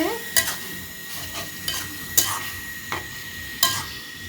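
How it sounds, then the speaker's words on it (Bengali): Spices, chopped chili and raw onion frying in a pan, with a steady sizzle under repeated sharp scrapes and clinks of a spoon stirring against the metal, coming in irregular bursts. "মশলা নাড়াচাড়া করা হচ্ছে।"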